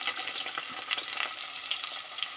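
Chopped onion fries in hot oil with methi seeds for hotel-style sambhar, giving a soft, continuous sizzle with light stirring movements, close but fairly quiet.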